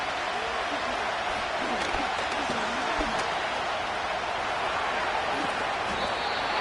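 Steady crowd roar fills a football stadium during a third-down play at a wildcard game against the Eagles, a dense continuous wash of cheering with faint voices rising inside it and no pauses.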